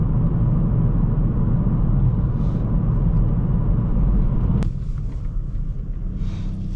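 A loud Hyundai i30N Facelift driven on a morning commute, with a steady, dense engine and road rumble heard from inside the cabin that drops slightly in level partway through.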